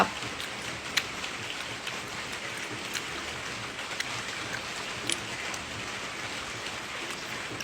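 Steady patter of rain-like sound, a dense continuous hiss with scattered sharper drops and occasional louder taps, fairly close, with no voices over it.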